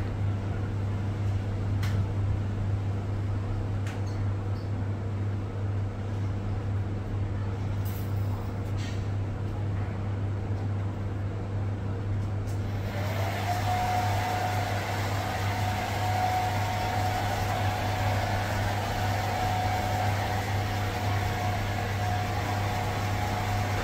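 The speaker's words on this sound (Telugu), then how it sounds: "ఇప్పుడు ఇవ్వండి హెయిర్ డ్రైయర్ తో కొంచెం హెయిర్ కూడా డ్రై చేసుకోవాలి" A hair dryer switches on midway and blows hair dry with a steady, airy whoosh and a faint whine, over a constant low hum that runs throughout the room.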